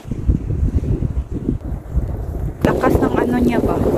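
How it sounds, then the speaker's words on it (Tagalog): Strong wind sweeping across a snowy lake in Germany rumbles against the microphone in gusts, then a person starts talking over the continuing blustery noise. "Lakas kasi ng hangin."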